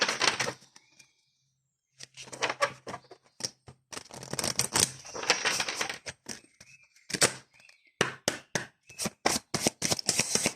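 Oracle cards are shuffled and drawn by hand, giving rapid bursts of crisp riffling and flicking separated by short silences, close and clear with no voices.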